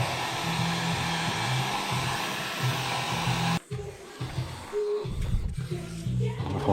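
Heat gun blowing hot air over thin protective film on a mountain bike rim, a steady close whooshing hum that cuts off partway through and is followed by brief handling noises.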